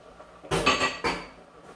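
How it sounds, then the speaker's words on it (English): Canned clams go into a pot for a red clam sauce. Two close metallic clanks of can against pot, then a short wet splash, with quiet room tone around them. "I'm going to add the can of clams in there."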